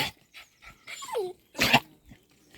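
A small, excited dog tied up at a village house in Himachal whimpers in high, wavering whines and gives a sharp bark, close and alone with brief gaps between the sounds.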